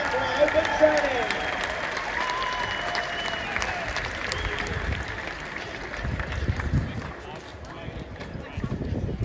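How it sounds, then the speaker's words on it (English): Crowd applause and cheering outdoors at a team's open training session, continuous clapping mixed with voices and some scuffling footsteps, swelling and easing over several seconds. "let's give our boys a big round of applause"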